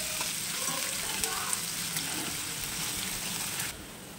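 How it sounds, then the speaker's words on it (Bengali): Chopped onion with two small cardamom pods frying in hot oil in a home kitchen, a steady close sizzle with light stirring that runs unbroken before dropping off sharply near the end. "পেঁয়াজটাকে ভেজে নেব।"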